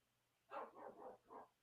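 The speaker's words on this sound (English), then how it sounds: "you can hear, I think you can hear my stupid dog in the background" A dog in the background of a room gives four quick, faint barks in a short burst, heard alone.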